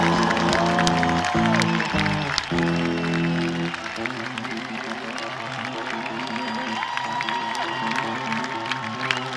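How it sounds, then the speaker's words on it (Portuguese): Festival crowd at Paredes de Coura applauding and cheering, with sustained music playing loudly underneath throughout. "uma salva de palmas"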